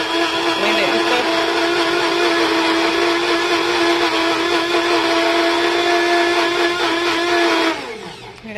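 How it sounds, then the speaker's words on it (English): A blender whirs loudly and steadily while blending aloe vera gel, running continuously for several seconds before cutting off near the end. "this is the aloe gel we put in the blender"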